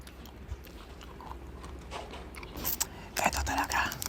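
Crunchy cookies and cream snack being chewed close up, a few soft crunches early then louder bites and crunching in the last second, with faint whispery voices in between.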